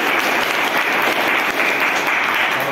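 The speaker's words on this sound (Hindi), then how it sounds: "और मैं चाहूँगा कि एक बार श्रवण कुमार के लिए और सर के लिए जोरदार तालियां।" Audience applause bursts out, dense sustained clapping from a seated crowd at a talk or ceremony, loud and even throughout with no voices over it.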